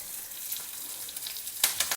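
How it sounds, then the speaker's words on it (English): Curry leaves, mustard seeds and a dry red chilli sizzling in hot oil for a South Indian tadka, giving a steady close hiss with a sharp crackling burst near the end before an abrupt cut. "Pour this sizzling tadka over your Neer Chutney"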